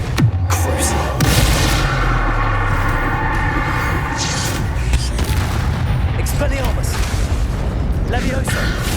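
Confringo blasting-curse explosions in Hogwarts Legacy on PS5 go off in repeated heavy booms and rumbling blasts. They come thick and loud throughout, mixed with spoken voices.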